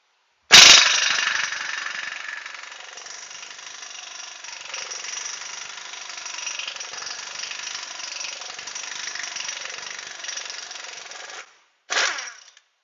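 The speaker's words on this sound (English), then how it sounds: "I'm just going to use my small impact gun." A small impact gun spins off the big CV axle shaft nut on a 2005 Honda, a loud sharp burst, then a long steady rattling hammer that stops, followed by one short final burst.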